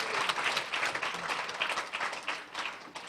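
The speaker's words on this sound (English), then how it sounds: "Let's give them a round of applause." Wedding guests at an evening reception give a sustained round of applause, a dense, even patter of many hands clapping together at moderate distance without speech.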